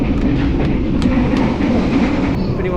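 Inside an economy-class passenger carriage on the Jakarta to Yogyakarta train, a loud, steady rumble of wheels on rails fills the space, with faint rhythmic clicks over the continuous low roar.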